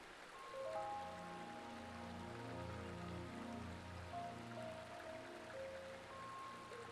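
A creek flowing down from a tall landmark in the game Eastshade, a soft, steady trickle and babble of running water heard at low level, continuous and calm with no voices.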